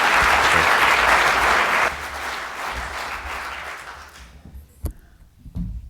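An evening lecture audience gives a warm round of applause that starts loud and full, thins out over a few seconds and dies away into a near-silent room with a couple of stray knocks.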